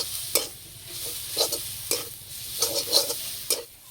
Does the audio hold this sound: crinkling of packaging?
no